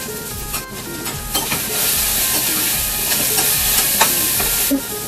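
Onions with a pinch of salt sizzle and fry in a pan, with steady hissing and repeated scraping stir strokes close by.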